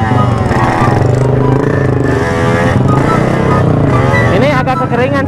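A motorcycle engine revs loudly and close up, its pitch rising and falling through repeated throttle blips, with clattering mechanical noise along with it.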